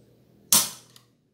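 A gun trigger is pulled dry while its trigger weight is measured, giving one crisp, loud snap up close followed by a faint secondary click.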